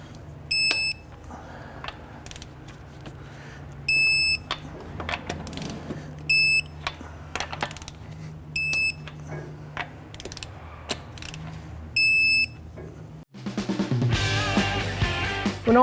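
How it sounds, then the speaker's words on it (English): A torque wrench tightens the lug nuts on a Honda Pilot to 95 foot-pounds, giving a series of spaced mechanical clicks with short high-pitched beeps, followed by a louder burst of clattering mechanical noise near the end. "Let's go ahead and torque down our lug nuts to 95 foot-pounds."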